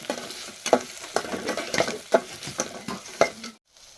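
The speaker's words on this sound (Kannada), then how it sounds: "ಟೊಮೆಟೊನ ಚೆನ್ನಾಗಿ ಎಣ್ಣೆದೊಳಗೆ ಫ್ರೈ ಮಾಡ್ಕೊಳ್ಳೋಣ ರೀ" Onion and tomato fry in oil, giving a moderate sizzle broken by repeated stirring knocks and scrapes at irregular intervals, then a sudden stop near the end.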